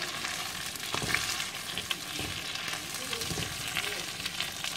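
Onions and one and a half tomatoes fry in a clay pot for meen kuzhambu fish curry. A busy crackling sizzle carries throughout, with scattered stirring scrapes and clicks, fairly soft overall and without talk.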